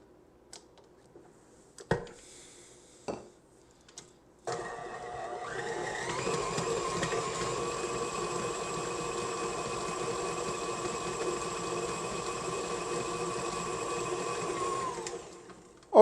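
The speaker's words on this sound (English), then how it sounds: "we're going to give it about another minute at medium speed on my mixer." An electric mixer beats potted cheese at medium speed. A few soft knocks come first, then the motor starts, rises in pitch and holds a steady, close whir for about ten seconds before cutting off.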